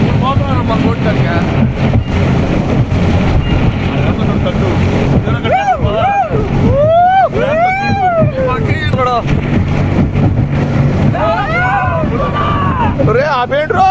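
A speedboat roars across the backwaters at Alappuzha, Kerala, its engine loud and constant with heavy wind rush against the microphone, while excited voices shout and talk over it.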